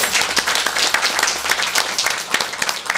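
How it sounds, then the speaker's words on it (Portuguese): A festival audience at a gaúcho accordion event in Medianeira applauds a girl showing her dress, dense loud clapping from many people filling the moment without talk. "Vamos lá aplaudir"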